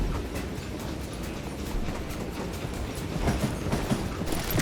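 Train rolling on rails in the western shooter game Call of Juarez: Gunslinger, a steady rumbling clatter with rhythmic wheel clicks, moderately loud and continuous.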